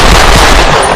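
A loud, close burst fills about a second as a gunshot sound effect, a dense booming blast that decays without any talk.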